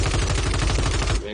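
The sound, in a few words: gunshots in a video game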